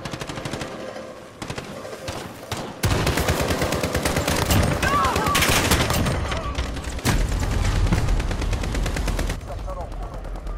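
Rapid bursts of automatic gunfire and rifle shots fill a Modern Warfare match, loud and close, rattling continuously with brief pauses between volleys while someone talks over the shooting.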